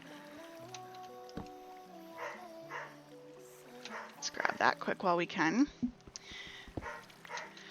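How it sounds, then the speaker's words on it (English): Foster puppies barking in kennels, a cluster of sharp, fairly faint barks and yelps in the background, heard behind game music and a speaking voice. "You may hear the foster pups barking in the background."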